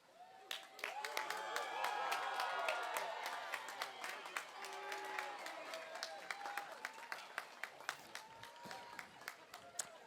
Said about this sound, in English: will you please stand and show your thanks and give applause to those who are here today